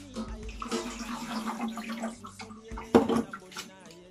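Water poured from a container into a cooking pot for steaming fish and mushroom parcels in a home kitchen, a steady splashing pour with a louder burst near the end, under faint background talk.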